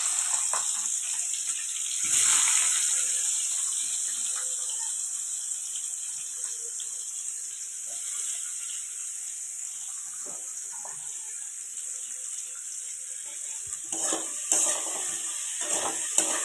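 A steady high hiss of onions frying in oil with bay leaf and whole cumin, with a burst near the start and a few scraping stirs later on.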